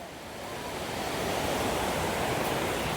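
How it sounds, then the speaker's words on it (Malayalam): A steady, broad roar of rushing water from Wei Sawdong Falls in Meghalaya, close and loud, swelling slightly in the first second and then holding even with no voices. "ഇതാണ് നമ്മുടെ വെള്ളച്ചാട്ടം അടുത്ത് എത്തിയിട്ടുണ്ട് കേട്ടോ നല്ലതായിട്ട് സൗണ്ട് കേൾക്കാം"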